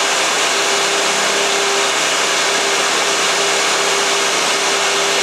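A small scratch-built CNC mill, a miniature Fadal VMC 15, cuts a chamfer with a continuous whining, hissing machining noise that holds a steady tone throughout at close range.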